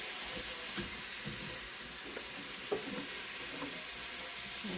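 Cheesy potatoes fry in a pan as a little water is added, giving a steady broad sizzle and hiss of steam with faint scraping from stirring, alone with no voices.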